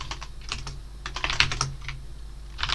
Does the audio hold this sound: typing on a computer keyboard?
yes